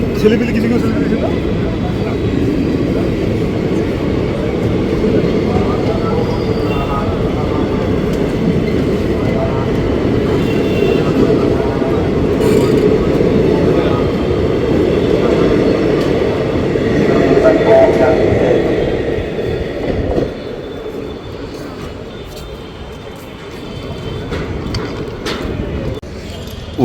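A diverted Uttarbanga Express train on an Indian rail line rumbles past steadily at close range, a loud continuous roll with faint clatter that eases off near the end, with people talking in the background.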